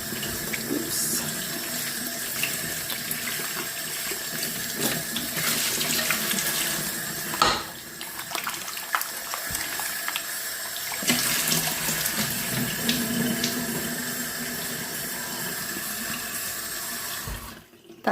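Food being washed under a running kitchen tap, a steady close rush of water with splashing changes as items pass through the stream, and brief handling knocks, no talk.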